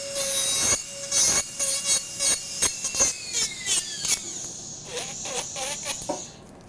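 A dental handpiece spinning at 35,000 RPM grinds standard acrylic on a partial denture, giving a high whining buzz that rises and falls in repeated short passes, close and clear.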